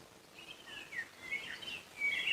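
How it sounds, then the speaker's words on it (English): Birds sing softly in a calm outdoor setting by a still pond among trees, a few thin chirping phrases rising and falling against a quiet background hush, faint and distant. "Birds are singing."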